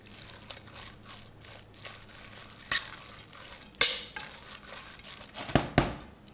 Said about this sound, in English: Let's give that another stir.